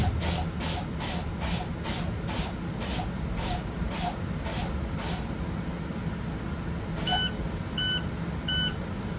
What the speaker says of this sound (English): at 60 psi, you hear the buzzer, the light is on